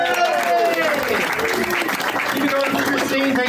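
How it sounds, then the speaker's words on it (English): An audience at Flappers Comedy Club applauds a storytelling comedy act, loud sustained clapping and cheering from a crowd while a voice talks over it. "Big round of applause."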